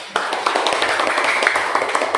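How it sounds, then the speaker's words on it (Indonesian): Short burst of classroom applause as students clap for a group that has just presented, a busy patter of hands close by with voices underneath. "Kita beri tepuk tangan untuk kelompok 1."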